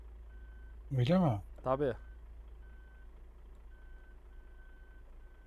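Irizar i8 coach reversing in Euro Truck Simulator 2: faint, evenly spaced electronic reversing beeps repeat under a low engine hum, with someone speaking briefly over the start.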